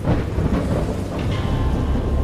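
Thunderstorm with a heavy, continuous wash of rain and low rolling thunder rumbles, loud and dense throughout, with no voices.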